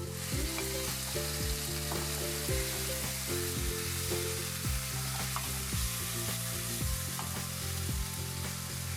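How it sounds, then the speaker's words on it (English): Steady loud sizzling of tomatoes and pineapple cubes stir-frying in a pan, with repeated scraping and clattering as they are stirred, no voices. "Add the cut tomatoes followed by the pineapple cubes and stir fry slightly"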